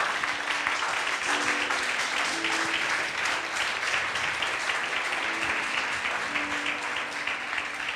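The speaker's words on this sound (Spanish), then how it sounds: "Vamos a darle un aplauso al Señor" A church congregation claps steadily for several seconds in a dense, continuous wash, with faint voices or singing mixed in underneath.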